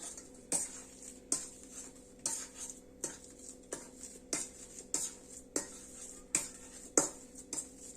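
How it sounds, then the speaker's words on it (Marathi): Boiled potatoes being mashed for aloo tikki, with a utensil striking the bowl in sharp, evenly spaced clinks about every half second, close and clear, with no talk. "सो अशा पद्धतीने सर्व बटाटे आपण इथे मॅश करून घेणार आहोत"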